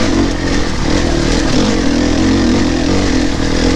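An enduro motorcycle works through dirt ruts, its mid-pitched engine droning loud and steady up close with slight surges in revs, a continuous rough motor note with no voices.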